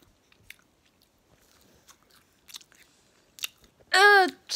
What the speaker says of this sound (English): The way you eat so loud.